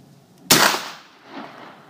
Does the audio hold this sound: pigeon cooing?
no